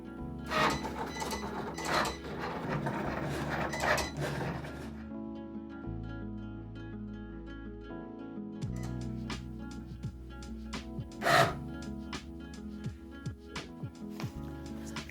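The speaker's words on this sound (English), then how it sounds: "So now that everything is cut with the Explore 3" Cricut Explore 3 cutting machine slicing smart iron-on vinyl without a mat, quiet motor whirs and stepping hums with soft carriage clicks and rubbing, a few louder clatters, close and alone.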